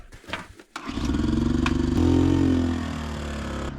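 A fishing trip's engine is started nearby: a few clattering cranks, then it catches and settles into a loud, steady idle that rises briefly and holds, with no talk.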